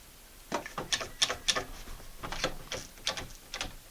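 Quick clicking ratchet sounds from a squeeze clamp being tightened onto a wooden boomerang blank, a close series of short irregular clicks in two bursts.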